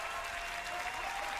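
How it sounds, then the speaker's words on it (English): Audience cheering and applauding at the Microsoft E3 2018 press conference after the Gears 5 reveal, a dense, steady roar of clapping and crowd noise filling the hall without a break. "People are cheering for that."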